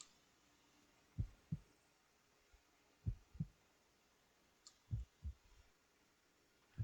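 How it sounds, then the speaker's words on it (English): A slow video game heartbeat thumps in low double pulses, lub-dub, repeating about every two seconds over a faint steady hum. "You still hear your heartbeat there?"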